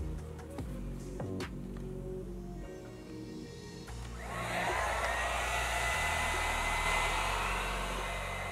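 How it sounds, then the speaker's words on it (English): Hair dryer on its low-speed air setting, from a Lena AirPlusStyler, blows a steady close whoosh, with handling knocks early before the airflow swells and stays constant. "the low speed air, which is just the hair dryer"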